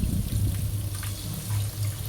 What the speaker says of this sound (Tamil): அதில் இருக்கிற தண்ணியை மட்டும் சேர்த்துப்போம்